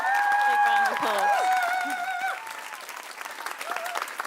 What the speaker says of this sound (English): Like big round of applause.